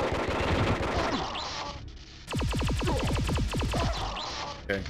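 Video game gunfire from a PlayStation demo disc shooter, with rapid automatic bursts and single shots that are loud and close, including a long fast machine-gun volley in the middle.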